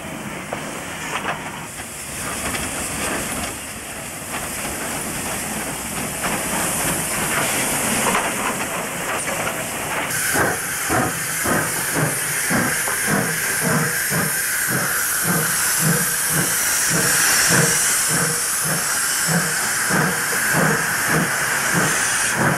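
A standard gauge steam locomotive in Eastern Europe hisses steadily and loudly, steam pouring out with rhythmic chuffing pulses that grow more regular in the second half.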